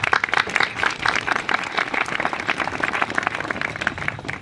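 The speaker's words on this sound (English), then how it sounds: "Give yourselves another applause." Graduates at a commencement ceremony give themselves a round of applause, a loud, dense burst of many hands clapping that stays strong throughout.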